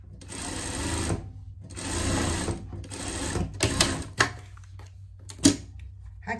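A sewing machine stitches a seam on a denim pet vest, running in several short bursts of rapid mechanical whirring separated by pauses, close and fairly loud, with a couple of sharp clicks toward the end.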